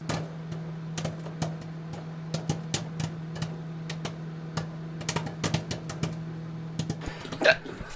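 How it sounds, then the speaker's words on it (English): Repeated hiccups from a character in a Battlestar Galactica episode, sharp short clicks recurring irregularly over a steady low hum, fairly close and moderately loud, with no talk. "Hiccups."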